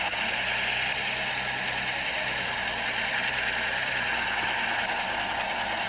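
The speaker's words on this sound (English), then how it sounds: "This tractor's super loud." A loud Roblox video-game tractor engine drones steadily without a break, a constant rumbling hum with a bright mechanical whine on top.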